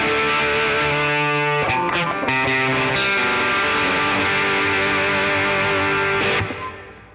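Electric guitar through a Rose compressor model on a NU-X MP2 Mighty Plug amp modeler, a loud run of strummed chords and picked notes with steady, even sustain before a final ringing chord fades.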